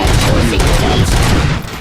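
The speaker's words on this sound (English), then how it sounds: "Gunshots? What's going on?" Dense, loud gunfire in the video game Robocop Rogue City, a continuous rattling fusillade of shots filling the whole moment with little break, with a voice faintly mixed in.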